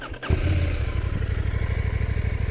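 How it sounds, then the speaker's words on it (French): A KTM 990 Duke motorcycle engine cranks briefly then fires and settles into a steady, rhythmic, throbbing idle, loud and close, with no talk. "On va démarrer le moteur."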